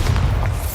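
Bombarda spell detonating in Hogwarts Legacy, a short, loud, deep boom with heavy low rumble lasting under a second.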